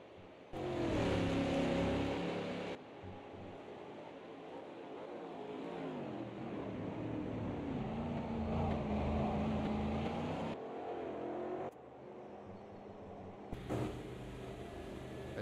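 Simulated stock car from a Brazilian StockCar Series racing game engine drones steadily as the car eases into the pit lane, a continuous mid-level hum with slight pitch shifts and brief cuts in the sound.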